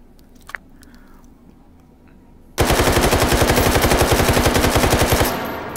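A Russian firearm in Hot Dogs, Horseshoes and Hand Grenades fires a loud sustained automatic burst of rapid, evenly spaced shots after a few quiet clicks, cutting off abruptly near the end.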